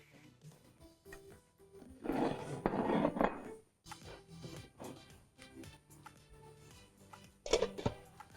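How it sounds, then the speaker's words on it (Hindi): Mushroom keema being served out of a cooking pan, with metal utensils clinking and scraping against the pan in scattered bursts, one busier stretch of clatter and a sharp clink near the end, no talking. "और अब आ जाते हैं कीमे को डिश आउट करते हैं।"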